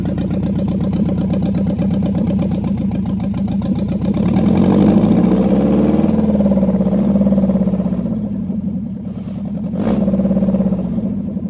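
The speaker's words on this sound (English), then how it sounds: "I'll get you to rev it in a second." A freshly rebuilt engine in a 1967 Alfa Romeo Giulia Sprint GT runs loud and close, idling steadily before rising into a couple of moderate revs that swell and fall back.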